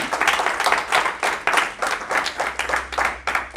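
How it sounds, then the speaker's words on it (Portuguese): A church congregation claps for Jesus during a Portuguese-language sermon, with loud, rhythmic, pulsing applause in regular beats throughout. "Salva de palmas para Jesus."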